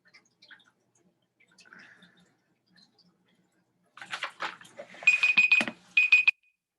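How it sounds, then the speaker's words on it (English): A beeping alarm goes off after near silence, preceded by scattered faint clicks and handling noise, then a burst of rapid repeated high electronic beeps in two short runs, fairly loud and close. "I know that alarm's about to go off"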